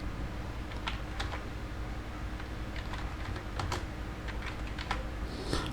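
Typing on a computer keyboard while entering a product price, a run of light, quick key clicks in irregular bursts, heard close over a faint steady background hiss.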